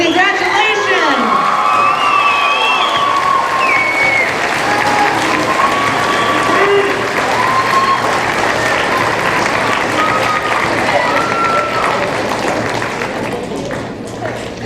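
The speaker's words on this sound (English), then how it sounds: "Let's give him another big round of applause." An audience at a school promotion ceremony bursts into sustained loud applause with cheering, whoops and shouting voices, holding steady for several seconds before gradually tapering off.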